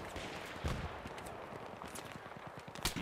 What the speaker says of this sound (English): He is still shooting.